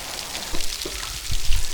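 Rain patters on a narrowboat, a soft steady hiss of drops with a few closer, heavier taps standing out.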